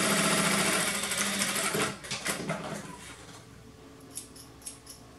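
Sewing machine stitching fabric for pajamas, a fast, steady mechanical whir that runs loud and close for about two seconds, then slows and fades to a few soft clicks.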